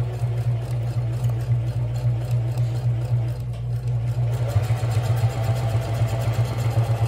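A sewing machine stitches the corner of a handmade bag, giving a steady close mechanical hum with a quick rhythmic needle patter that carries on throughout, briefly easing off midway before picking up again.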